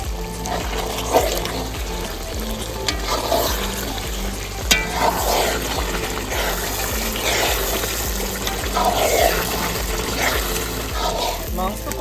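Chicken with onion, ginger and garlic sautés in a pan, a moderate sizzle with scraping stirs and occasional sharp clinks of a spoon against metal, while a person talks over it.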